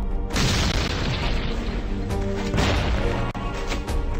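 Heavy, booming gunshots from the Gunslinger mobile video game ring out in a few loud blasts, each followed by a rumbling tail, with no talk over them.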